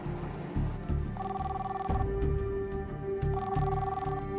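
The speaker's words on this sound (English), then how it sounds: "Tom keeps trying her cell phone." A cell phone call rings unanswered, with two long electronic ringing tones separated by a pause over a steady background drone, moderately loud with no voices.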